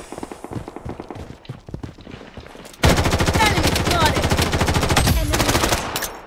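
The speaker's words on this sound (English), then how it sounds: "Taking fire!" Dense automatic gunfire from the PC shooter Bloodstrike suddenly bursts in partway through, rapid close shots hammering continuously after a quieter stretch of scattered softer shots and movement.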